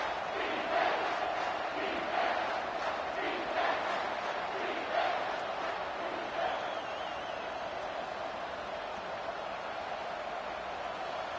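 A stadium crowd at a Cal versus Michigan college football game roars on third down, a dense, sustained wall of cheering and shouting that swells in waves and holds steady throughout.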